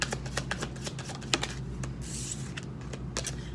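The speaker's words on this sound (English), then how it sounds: "One more shuffle." Tarot cards are shuffled by hand, giving a close run of quick, light riffling clicks and taps at an uneven rhythm, with no voice over them.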